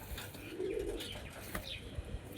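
Pigeons kept at home cooing softly at close range, a low murmuring coo with a few faint rustles and clicks around it, quiet and without talk.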